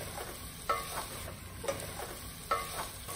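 Green chilies sizzle in a hot pan while a spatula stirs them, giving several distinct scraping strokes over a soft frying hiss, close up and without voices.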